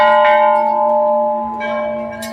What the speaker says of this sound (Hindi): तो ये लीजिए, मोटा सा घंटा बजा लीजिए।